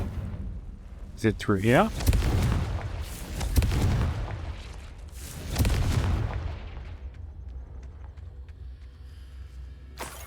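In the Hogwarts Legacy video game, the Confringo blasting spell sets off several deep booming explosions a couple of seconds apart, led in by a short whistling tone, with a brief spoken question near the start.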